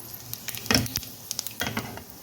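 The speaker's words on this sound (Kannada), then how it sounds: "ಚಟಪಟ ಅನ್ಬೇಕು ಸೋಂಪು." Fennel seeds spluttering in hot oil in a pan with cardamom, cloves and cinnamon for aloo dum biryani, giving a few sharp crackling pops over a soft steady sizzle, close and moderately loud, with no talking.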